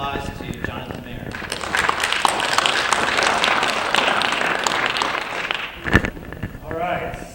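An audience applauds after a speaker is introduced for a talk on global warming, a dense broadband patter of many hands that lasts several seconds with voices mixed in, then fades.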